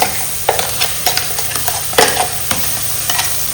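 Loud, steady sizzling in a hot pan with repeated spoon scrapes and knocks as a thick ground masala paste is stirred.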